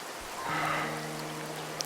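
Rain in an animated Hindi cartoon story, a steady soft hiss of falling rain with a faint patter, quiet and continuous.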